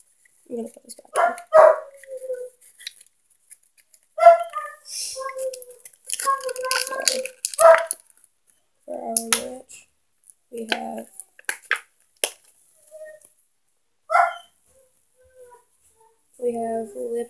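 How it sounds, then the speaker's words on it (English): A dog barks in short, scattered bursts, close by, mixed with people talking and rustling handling noises indoors. "Oh my god, dog."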